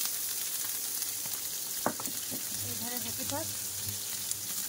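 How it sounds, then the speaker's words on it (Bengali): Chopped onion, ginger and crushed garlic fry quietly in a pan with a soft, constant sizzle, while a voice speaks briefly over it. "কিন্তু ভালোভাবে ভেজে নিচ্ছি"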